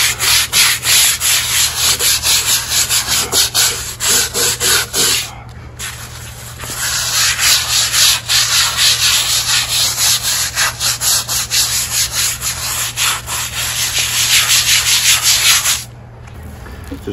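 Stiff brush scrubbing bleach-soaked patio pavers and the cracks between them, rapid rhythmic rasping strokes up close and loud, pausing briefly twice.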